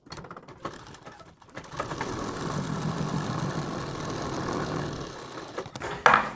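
A sewing machine runs in a steady, even mechanical whir for several seconds, stitching fabric for a sleeve design, with soft handling noises before and after.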